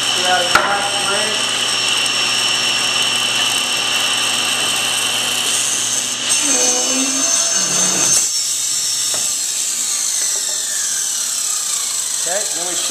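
Table saw ripping through a wooden board for a storage chest build, a loud sustained whine with a sharp start, then winding down and stopping midway, under a few spoken words.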